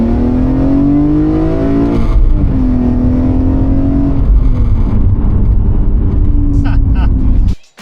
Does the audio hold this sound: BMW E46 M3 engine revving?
yes